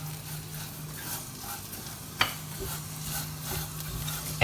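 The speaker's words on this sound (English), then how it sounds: "now that the onion is translucent, add about 3 tablespoons of salt. Give it a good stir." Translucent onion being stirred with salt in a hot pan: a soft, continuous sizzle with light scraping as it is stirred, one sharper knock partway through, close and without talk.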